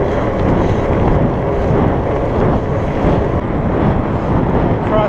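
Steady, loud wind roars across the microphone during a fat bike ride on a Surly Moonlander in the cold, a broad continuous buffeting from a cross headwind with no pauses.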